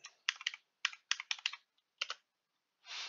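Rapid bursts of keystrokes on a computer keyboard while a name is typed into a Microsoft Word document, close and clear, in short irregular clusters with pauses, ending on one broader key press.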